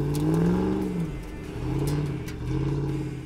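A Dodge Ram 1500 on 37-inch tires with a replacement 5.7 Hemi V8 revs repeatedly, its engine note rising and falling in three steady surges, close and loud with no talk.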